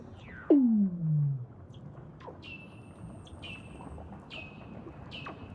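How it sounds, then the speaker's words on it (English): Weddell seals calling under the ice: a loud descending glide opens, followed by fainter trilling sweeps and repeated high whistle-like tones over a low rumble, with no talk. "They're actually the calls of Weddell seals."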